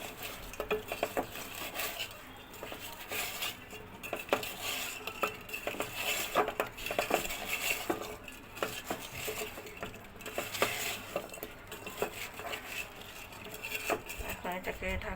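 Pumpkin and shrimp being mixed by hand in a bowl for a curry: soft wet squishing and patting with occasional clinks against the bowl, close and irregular, steady for the whole stretch.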